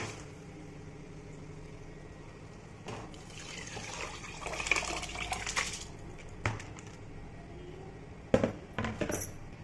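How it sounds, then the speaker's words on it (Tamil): Soaked rice and its soaking water, one and a half cups of rice to three cups of water, poured into a cooking pot for jackfruit biryani: a faint splashing, trickling pour that builds midway, with clinks and knocks of utensils. "இப்போ தண்ணியோடு இதில் சேர்த்துக்கலாம்"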